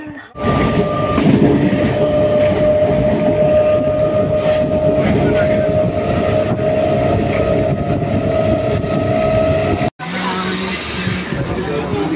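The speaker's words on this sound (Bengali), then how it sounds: "আমাদের ট্রেন আর 2-1 মিনিটের মধ্যেই চলে আসবে" A train runs along the tracks with a continuous loud rumble and a sustained tonal hum, a brief break near the end.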